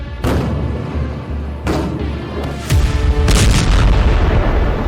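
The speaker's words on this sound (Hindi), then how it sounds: "घुप अंधेरे में दक्षिणी लेबनान में सीरियल धमाकों का ये पार्ट 2 है।" Serial explosions boom at night in southern Lebanon, several heavy blasts arriving one after another with rolling, rumbling tails, loud and fairly close, each burst stacking on the fading echo of the one before.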